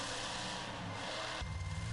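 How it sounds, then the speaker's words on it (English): Monster truck engine revving hard in the racing game Monster Truck Championship, a steady loud mechanical roar that jumps to a deeper, rougher growl toward the end, with no talk. "Over-revved it."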